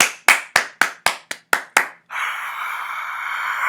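Someone gives eight sharp, evenly spaced hand claps close up, then the claps stop and a steady broadband hiss takes over.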